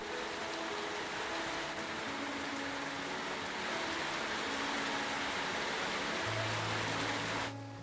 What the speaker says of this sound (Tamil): 2 மணி நேரத்திற்கு மேலாக கொட்டி தீர்த்த கனமழையால் சாலைகளில் மழைநீர் பெருக்கெடுத்து ஓடியது